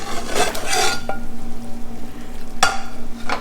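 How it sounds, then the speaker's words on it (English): Beef brisket is stirred into a pot of Vietnamese pho broth, with close clinks and scrapes of a utensil against the pot, two sharp knocks, and a low bubbling simmer underneath. "Then you stir it up. Brisket in,"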